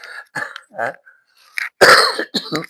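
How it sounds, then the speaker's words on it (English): A series of short, rough coughs and throat-clearing bursts, close up, with brief pauses between them and one louder, harsher cough near the middle. "still got a little cough"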